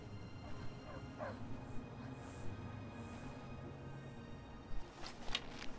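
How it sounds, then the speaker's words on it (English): A dog in Skyrim gives several quick yips and barks, fairly faint under a steady ambient background, with a small cluster of barks near the end. "Wait, that's a dog."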